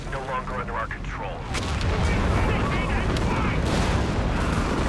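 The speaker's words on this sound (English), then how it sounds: "Creeping barrage." A creeping artillery barrage in Company of Heroes 3, heavy booms and rumbling impacts building into a dense, continuous roar, with someone talking over the start.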